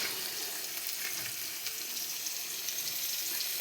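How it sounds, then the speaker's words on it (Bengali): Pasta and vegetables fry together in a pan with a continuous quiet sizzle and faint crackle, steady from start to finish with no voices. "এগুলো সব ভাজা ভাজা হয়ে যাক।"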